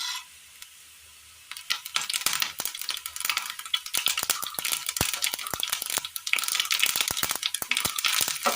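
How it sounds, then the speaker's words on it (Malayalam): Mustard seeds splutter and pop in hot oil for a Kerala curry, after a brief quiet start a dense crackle of sharp, rapid pops that keeps going steadily, close and loud. "ഒരല്പം എണ്ണ ഒഴിച്ചു കൊടുക്കാം. എണ്ണയിലേക്ക് കടുകിടാം."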